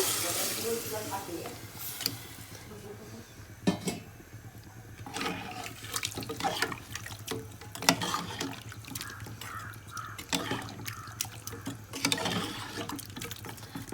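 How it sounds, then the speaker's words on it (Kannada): Water gushes and splashes into a pot for chicken soup with a steady pouring rush, close by, while clinks of utensils and some background movement break in. "ನಾನು ಇದಕ್ಕೆ ನೀರು ಹಾಕ್ತಾ ಇದ್ದೀನಿ."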